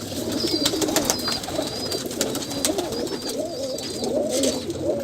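Kamagar pigeons, a female with a zeera Kamagar male, coo in a steady series of low, throaty calls close by, with faint higher chirps above and a light background hiss.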